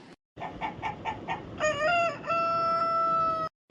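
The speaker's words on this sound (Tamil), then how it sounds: "அட இந்த கோழியை பார்க்க முட்டை கிழவி வீட்டில் உள்ள கோழி மாதிரியே இருக்க" A rooster crows close by, a full rising cock-a-doodle-doo with a long held final note, following a few quick clucking calls, alone with no talk.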